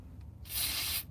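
Foam sprays into a vacuum chamber as one short, close burst of hiss lasting about half a second, with no voices.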